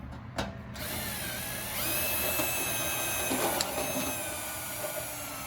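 A screw is welded onto a fender flare mount, giving a steady, dense crackling hiss that starts after a brief pause and runs on evenly for about five seconds, fairly close and without talk.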